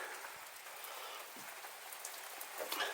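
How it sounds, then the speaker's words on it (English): Steady rain falls outside an old, long-abandoned dairy farm, a dense, even hiss with scattered drop patters that stays constant throughout, with no voices. "Back out into the rain."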